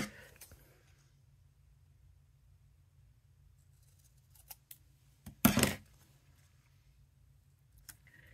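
Scissors snip through a piece of paper card during cardmaking with a layout collection: one short cluster of cuts near the middle, close and fairly crisp, preceded by a couple of faint ticks over a quiet low hum.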